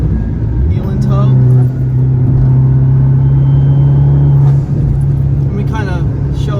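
An Abarth's engine drones loudly at a sustained pitch, then drops and blips as the driver heel-and-toe downshifts on a Florida road loop, with a voice talking over the cabin noise.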